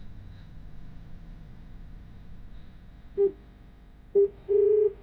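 A few short electronic beeps of phone keys being pressed, irregularly spaced over a low background hum, the last tone held a little longer.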